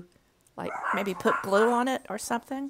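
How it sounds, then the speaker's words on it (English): Several household dogs bark and yip excitedly while greeting someone arriving home, mixed under steady nearby talk. "Sorry about the dogs."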